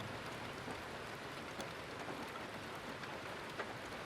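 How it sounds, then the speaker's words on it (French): Steady, dense rain pours down without pause, a continuous hiss with scattered drops pattering on a surface close by. "Cette pluie s'arrêtera jamais."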